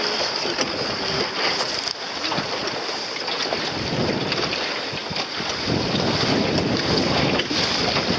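Steady wind buffets a sailboat during a regatta, a loud continuous rush with gusty swells and microphone wind noise throughout, with no clear speech.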